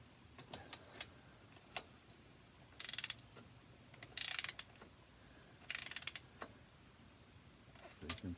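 Lug nuts being snugged up on a Kubota BX tractor rear wheel, with faint scattered ratcheting clicks and a few short bursts of mechanical rattling against a quiet background.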